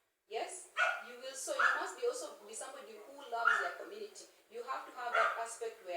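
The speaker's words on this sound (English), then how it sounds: "please excuse the dog." A dog barks now and then in the background while a person speaks continuously over it indoors, the bark partly masked by the talk.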